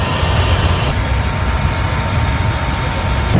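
A Royal Enfield Himalayan 450 idles with a steady low rumble while its radiator fan whirs alongside in an even, continuous drone close by.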